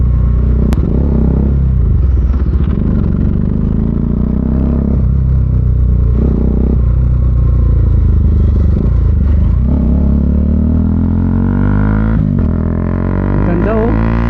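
A Bajaj Dominar 400 UG2 single-cylinder motorcycle with a Zeus muffler rumbles continuously up close, its exhaust note rising and falling with throttle changes.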